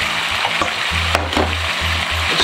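Grated carrot and onion mixture sizzles steadily in a frying pan, close and continuous, with a faint scrape or clatter partway through.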